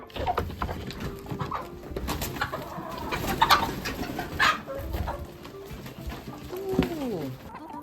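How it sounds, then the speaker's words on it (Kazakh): Village chickens at feeding time, clucking and calling in a busy, overlapping chorus close by, with scattered louder squawks over rustling grain. "Достар, осылай біздер тауыққа жем саламыз."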